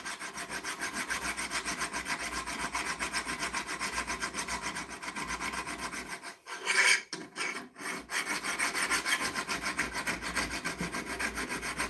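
A knife blade is worked by hand with a file, giving a steady rasping back-and-forth scrape in a regular rhythm that stops briefly near the middle and then resumes, close and loud, with no voices.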